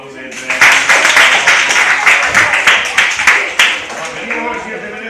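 A workshop class bursts into applause, many hands clapping close by in a dense, steady burst that starts after a brief pause and carries on for several seconds, with a few voices mixed in.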